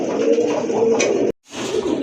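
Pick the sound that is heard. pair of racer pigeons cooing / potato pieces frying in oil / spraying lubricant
pair of racer pigeons cooing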